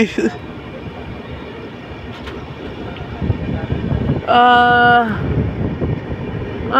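The Amarnath Express pulling away after a signal turns green, a low rumbling of rolling wagons with a brief loud horn blast midway, close by and under some wind.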